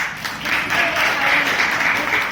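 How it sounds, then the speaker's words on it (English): Steady applause from a Toastmasters meeting audience, a dense wash of many hands clapping at even loudness throughout, with faint voices mixed in. "a big round of applause"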